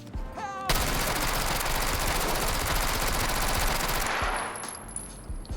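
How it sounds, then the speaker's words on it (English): A Ready or Not magazine dump: one continuous, loud burst of rapid automatic fire lasting about three and a half seconds, preceded by a short mechanical rattle and trailing into ringing echo afterward. "that was a mag dump"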